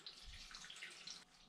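A litre of water poured into a pan full of rose hips for syrup, a steady splashing gush close by that cuts off sharply near the end.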